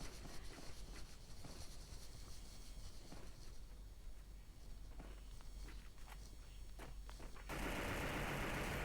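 Rapid automatic gunfire from a shooting video game, dense crackling bursts and pops running continuously, ending abruptly in a steady noisy hiss.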